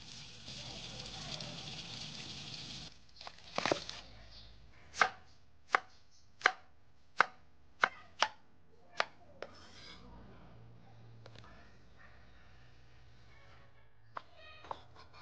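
Bamboo shoots are chopped with a knife, a run of about eight sharp, evenly spaced strikes close by, followed by a few lighter scattered taps.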